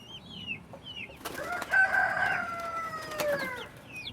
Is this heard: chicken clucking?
yes